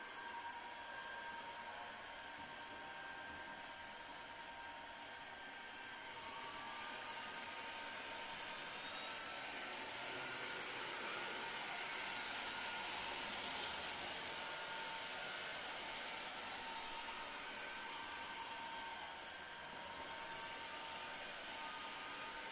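An Ultenic U12 Vesla cordless wet-dry stick vacuum runs in its standard mode, picking up spilled rice, corn, water and milk from a floor with a steady, fairly quiet motor whine and airflow hiss throughout.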